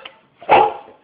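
A dog named on command gives a single short, loud bark close by, preceded by a faint sound, with no talk over it.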